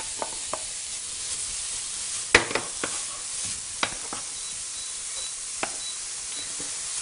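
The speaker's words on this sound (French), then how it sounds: "on a fait blondir les oignons, on va pouvoir rajouter le jambon râpé" Soft, steady sizzling of onions and grated ham frying in a pan, with occasional sharp clicks and scrapes of stirring.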